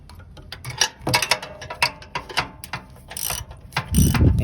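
Ratchet wrench clicking in quick uneven bursts while removing a bolt from a first-generation Nissan Xterra sway bar, close and crisp with short pauses between strokes.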